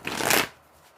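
A deck of cards riffled in a quick, loud shuffle in a card-reading session, a dense crackling burst lasting about half a second and then stopping into quiet.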